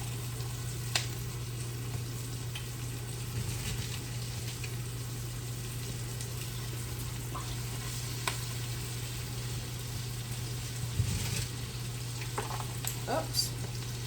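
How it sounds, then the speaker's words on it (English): Cabbage hits hot bacon fat in a pan, giving a steady, close sizzle over a constant low hum, with a few light clatters and scrapes scattered through. "Now I'm getting ready to add my cabbage to this pan."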